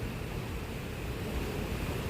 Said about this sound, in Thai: น้ำไหลแรงมากครับท่านผู้ชม